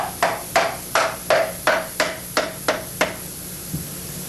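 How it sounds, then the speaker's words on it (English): Eight or nine sharp hammer taps at a steady pace, tapping a cover into place, each ringing briefly, then one softer final tap; close and clear with no voices. "he'll tap that down with a hammer also"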